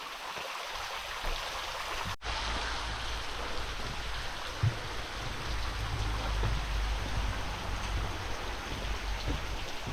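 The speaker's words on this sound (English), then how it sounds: "it's a bit drizzling, I'm totally fine with it" Light drizzle falls on a hiking trail on the Müllerthal trail in Luxembourg, a steady soft hiss of raindrops that continues evenly throughout with no talking.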